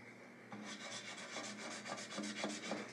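Guitar finish being wet-sanded by hand with 8000-grit micro-mesh during a ding repair, a soft steady rubbing with rhythmic back-and-forth strokes, close and moderately loud with no voices.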